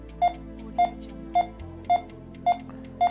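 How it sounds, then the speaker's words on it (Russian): Six short electronic beeps from a Tantos iPanel 2 WG intercom video panel with card reader repeat at an even pace over a quiet background hum, crisp and close. "Вот, пошли пикания"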